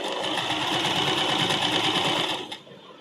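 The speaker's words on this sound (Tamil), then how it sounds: "கரெக்டாக லேஸ் மேலே ஸ்டிச் பண்ணுங்கள்." Sewing machine stitching lace onto a sleeve, running as one steady, close, continuous whir for about two and a half seconds before stopping abruptly, with no talking.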